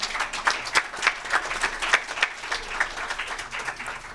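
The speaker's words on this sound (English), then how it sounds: "Let's give them a round of applause, ladies and gentlemen." An audience at a Zimbabwe tourism presentation applauds, a fairly sparse, uneven patter of individual claps that stays moderately quiet throughout.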